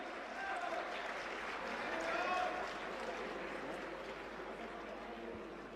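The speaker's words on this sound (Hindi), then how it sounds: "तालियों से हम सभी भी सम्मिलित हों" Applause from a Jain community gathering in Guna, honouring Acharya Vidyasagar: a faint, continuous wash of many hands clapping, swelling slightly midway and holding steady from a distance.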